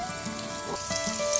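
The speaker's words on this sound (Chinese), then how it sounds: "大概炸4到5分钟，两面金黄就可以了。" Shrimp-stuffed youtiao dough sticks deep-fry in hot oil with a steady, soft sizzle and bubbling that lasts only a moment.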